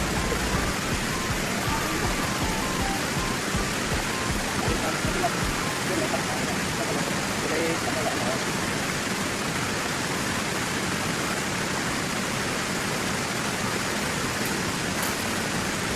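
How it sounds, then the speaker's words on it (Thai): Pu Kaeng waterfall in Chiang Rai, Thailand, roars steadily and loudly, a dense unbroken rush of falling water filling the whole stretch. "ผมฟังเสียงน้ำตกแบบผ่อนคลายผ่อนคลาย"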